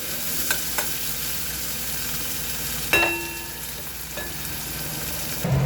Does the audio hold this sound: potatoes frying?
yes